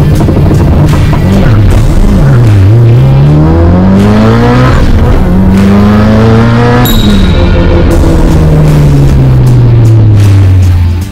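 Mitsubishi Lancer Evolution launching from standstill for a 0-100 run, its engine roaring loudly and rising in pitch through several gear changes with brief dips between shifts, very close and unbroken.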